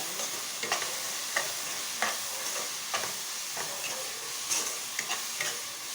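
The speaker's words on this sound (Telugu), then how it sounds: "అన్నీ వేయించుకోవాలి." Chili powder, coriander powder and garam masala frying in a pan for egg biryani, a steady close sizzle broken by repeated scraping stirs at an uneven rhythm, with no talk.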